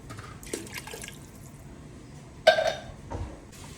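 Water poured into a cooking pot for a mung bean stew with sardines, heard as a few brief, close splashing pours separated by short pauses, with no talking.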